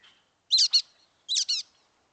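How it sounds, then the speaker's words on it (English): Brown-headed nuthatch calling: two paired bursts of high, squeaky double notes like a rubber toy, separated by a short pause, clear and close against silence. "So listen to the brown-headed nuthatch."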